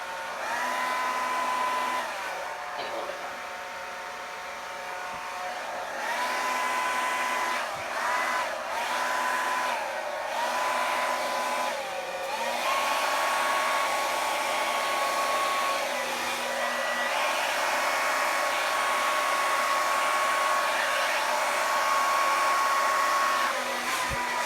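A hair dryer blows steadily across wet acrylic paint in a Dutch pour, a continuous close whirring hum with slight pitch wobbles as it moves, running alone for the whole stretch without talk.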